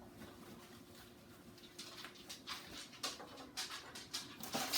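A dog pants in a kitchen in quick, breathy bursts that grow louder and denser toward the end, close by over a faint steady hum.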